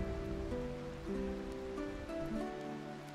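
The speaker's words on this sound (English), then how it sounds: "A little bit of rain." Steady rain hiss in the video game Tavern Master, a soft continuous patter that runs under layered game music throughout, with no talking.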